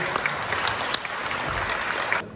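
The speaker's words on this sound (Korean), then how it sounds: "신랑 신부 맞절 큰 박수 부탁드리겠습니다." Wedding guests applaud as the bride and groom bow to each other, a dense, loud wash of clapping from a close crowd that holds steady and then cuts off abruptly near the end.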